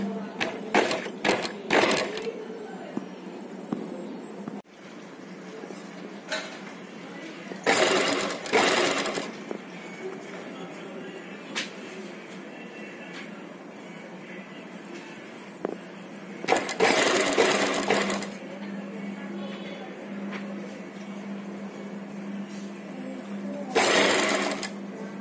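A sewing machine stitches invisible thread piping onto a cloth neckline lining in several distinct runs of rapid mechanical chatter, each a second or two long, separated by quieter pauses with faint handling of the fabric.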